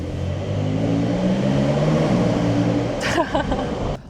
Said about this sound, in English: We're still in Sport Plus, and we also still have the Sport exhaust system on